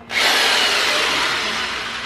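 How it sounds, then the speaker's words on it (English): A power tool whines loudly and continuously after a brief quiet start, with a drill-like grinding into wood, during work on a truck bed camping build. "Power tools."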